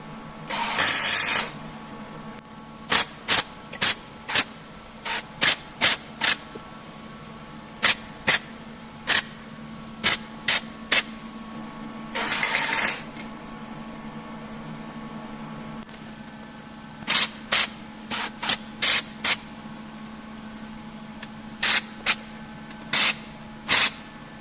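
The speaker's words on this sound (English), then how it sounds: "I'm going to tack weld here, here, here, here, and then clamp these together" A welder tacks a classic Mini van's rear quarter panel, short sharp crackling bursts of arc welding repeating at uneven intervals over a steady low hum, with no voices.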